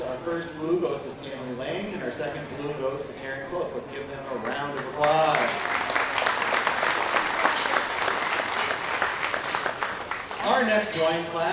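An announcer speaks over a swine show arena, and then a burst of audience applause for the class winners takes over for several seconds before the voice returns.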